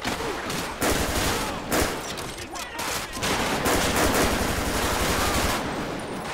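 Automatic gunfire in a GTA 5 police gang-unit shootout, with bursts of rapid shots and loud overlapping volleys that come and go in waves, close and heavy throughout.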